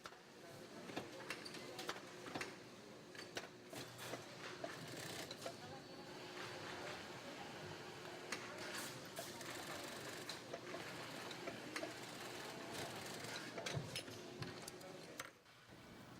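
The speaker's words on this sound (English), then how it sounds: "After embroidery, workers sew the separate pieces to the BCD." Industrial sewing machine stitching separate fabric pieces onto a diving BCD in a factory, giving steady mechanical whirring and ticking over a busy workshop background, with faint voices now and then.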